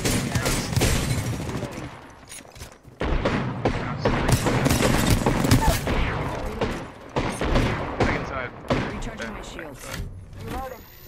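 Rapid gunfire bursts in an Apex Legends firefight on PC, dense and loud, with many clustered shots and thuds continuing under overlapping game talk and voices.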